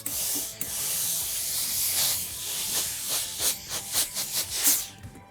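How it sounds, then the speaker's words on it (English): A steam iron fuses interfacing onto fabric, with muslin laid on top. Close, steady hissing bursts of steam give way to a run of short, rhythmic puffs toward the end, with no voices. "Give that a nice steam"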